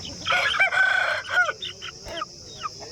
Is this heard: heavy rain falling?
no